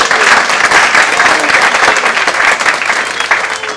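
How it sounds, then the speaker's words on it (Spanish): Church congregation applauding during an evening service, steady dense clapping throughout, loud and close, with faint voices mixed in. "Dá un aplauso al Señor en esta noche en nombre de Jesús."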